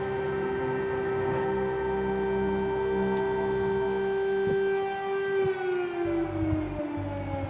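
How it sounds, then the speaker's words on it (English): Air raid sirens wail across central Kyiv during airstrikes, a sustained, loud rising-and-holding tone that slowly drops in pitch near the end, echoing over the city with faint background rumble. "there are air raid sirens going off right now here in the heart of Kiev"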